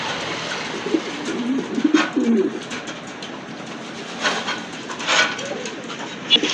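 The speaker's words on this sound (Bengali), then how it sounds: "দেখার মতো কিন্তু একদম ইউ শেপের কবুতর" Fancy pigeons coo at a busy pigeon market, soft throaty rolling coos that rise in short bursts over constant background noise, with several birds calling close by.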